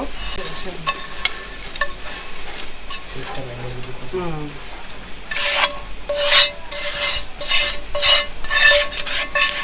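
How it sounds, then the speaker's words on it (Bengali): Vermicelli frying until reddish brown in a pan, with a continuous sizzle, repeated scraping strokes from stirring, and light metallic clinks, close and fairly loud. "আমার শ্যামাই ভাজা হয়ে গেছে হালকা লালচে লালচে কালার হয়েছে"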